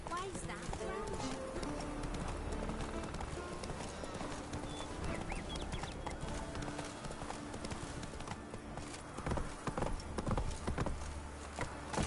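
Clip-clopping hooves of the horse Roach in The Witcher 3 video game, a steady trotting rhythm heard with game music and voices talking over it throughout.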